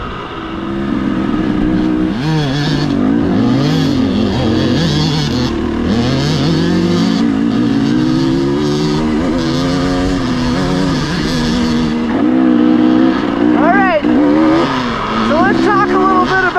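Several dirt bike engines, including a small 100, revving and shifting while riding together, their rising and falling engine tones continuous and loud, with a brief bit of talk mixed in.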